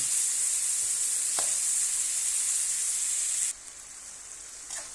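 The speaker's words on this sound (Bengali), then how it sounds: "দেখেন আমার টমেটোটা সুন্দর করে আমি কষাই নিচ্ছি।" Tomatoes sauté in a hot pan with a steady, bright sizzle, with one brief stir knock early on. The hiss drops noticeably quieter partway through and continues more softly to the end.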